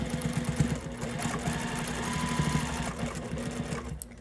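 A sewing machine runs steadily while stitching quilt binding, its needle producing a fast, even mechanical rattle and hum at close range that slows and fades near the end.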